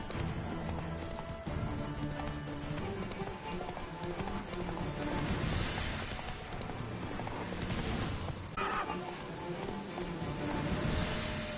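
The horse Roach galloping in The Witcher 3, a fast continuous rhythm of hoofbeats close by under game music and ambience.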